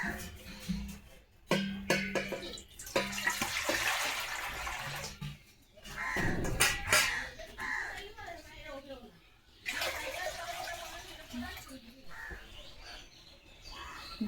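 Water pours into a cooking pot in two steady, hissing streams, nearby, with a person talking and a bird calling in the background.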